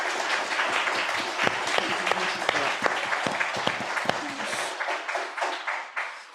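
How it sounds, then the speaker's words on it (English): A conference audience applauds the speakers after a series of inspirational talks, a dense, steady wash of clapping from a large crowd that holds for several seconds before thinning out at the end. "Another round of applause,"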